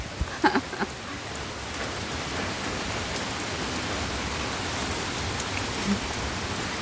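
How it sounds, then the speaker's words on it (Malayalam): Heavy rain pours down in a dense, unbroken roar of drops hitting surfaces, steady and loud from start to end, with a couple of faint knocks near the beginning. "നല്ല സൂപ്പർ ഒരു മഴ പെയ്തു"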